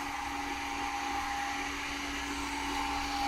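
An electric motor drives an alternator on a test bench, turning at about 1312 rpm, giving a steady, unbroken mechanical hum with a high whine on top, alone with no voices.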